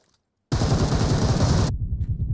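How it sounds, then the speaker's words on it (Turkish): A grenade goes off in the battle royale game PUBG Mobile: a sudden, loud, close blast that roars for about a second, then drops to a lower rumbling tail. "Ulan bomba atmış."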